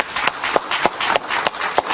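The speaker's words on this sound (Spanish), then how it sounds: "Un aplauso para Enrique Salas Romer, por favor." A television studio audience welcomes a guest with rhythmic clapping, about seven even, pulsing beats over two seconds on top of a softer wash of applause.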